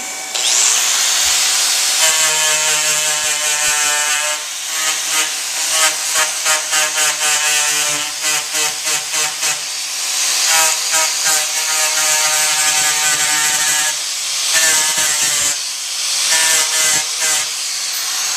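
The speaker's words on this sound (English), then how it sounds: "You'll notice I'm grinding off the end of the old extrudate, so it's fresh." A grinder trims the old extrudate off the end of a split boot, giving a loud, steady whirring grind with many stuttering ratchet-like pulses and brief pauses over about eighteen seconds, with no talking.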